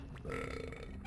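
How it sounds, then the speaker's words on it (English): A single drawn-out cartoon burp from a cog face in Donkey Kong 64, heard close and clear over the game's steady background for most of the moment. "this was gonna be a burp too"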